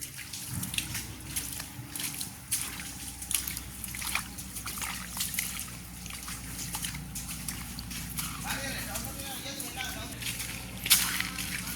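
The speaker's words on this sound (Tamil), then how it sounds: "தண்ணி ஓடிக்கொண்டே இருக்குது." Rainwater runs and trickles steadily through a forest area in a Vanni village after heavy rain, a continuous close watery wash with brief splashy bursts and a voice heard faintly at moments.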